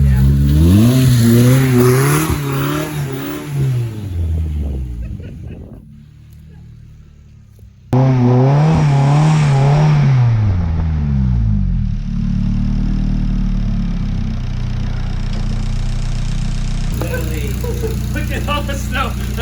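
A K20-engined "Bug" chassis side-by-side ploughing through wet snow, its engine revving hard in rising and falling sweeps, dropping off briefly before roaring back and holding a loud, steady drone close to the microphone.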